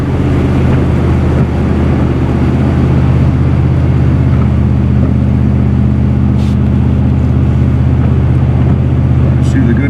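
Vehicle engine cranked up and building RPM during a short uphill climb, a steady loud low drone holding throughout with a faint rise in pitch, alone without talk.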